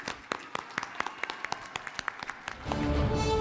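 Scattered, sparse claps from an audience at a teachers' awards ceremony pick up into fuller, denser applause near the end, with a faint voice beneath.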